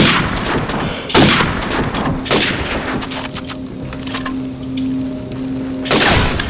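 M40A3 sniper rifle gunfire in Call of Duty 4 multiplayer, several sharp, loud cracks spaced a second or more apart with booming tails and faint game ambience between shots.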